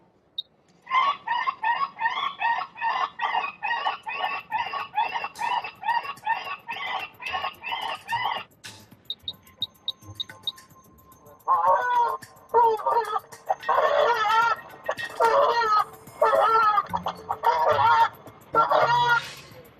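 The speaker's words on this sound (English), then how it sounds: "That one was a very distressed goose." A recorded goose distress call plays back at Heathrow Airport as rapid, repeated honking, pauses briefly, then resumes in louder, harsher bursts of honks and squawks.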